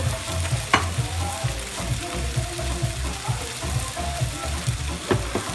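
Potatoes frying in oil in a pot for chicken curry, a loud steady sizzle with a rhythmic churning of stirring and a few sharp scrapes, close by.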